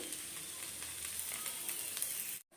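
Dosa batter sizzling on a hot pan, a steady close crackling hiss that runs evenly for over two seconds before cutting out abruptly near the end.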